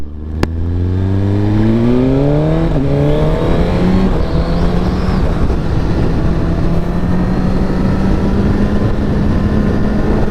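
A car cornering on Ortega Highway with warm tires and traction control on; the engine revs up sharply, then holds a loud, steady drone under heavy road and wind noise, close and continuous.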